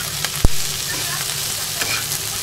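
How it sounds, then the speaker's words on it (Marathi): Dal being tempered in hot oil in a home kitchen, a continuous close sizzle with a sharp pop or clink near the start and faint stirring, no talk. "आणि एकीकडे डाळ फोडणीला घालते"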